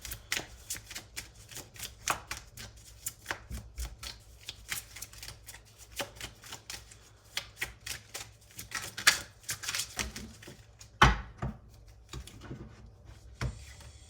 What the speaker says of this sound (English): So I'm just going to continue shuffling and get 2 or 3 more cards out for you guys